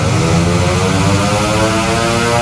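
A racing motorcycle engine with a racing exhaust runs at steady high revs on a dyno test at a motorcycle workshop, giving a loud, sustained, even drone heard from a little distance with no talking.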